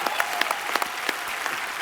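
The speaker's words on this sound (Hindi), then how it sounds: "यार ऑनेस्टी के लिए तो तालियां बनती पहले।" Studio audience clapping on a live Hindi comedy talk show, a steady wash of dense applause with a few sharper claps standing out, lasting the full two seconds with no talk over it.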